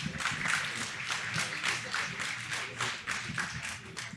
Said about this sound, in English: Let's give a big round of applause for Eric and Jim.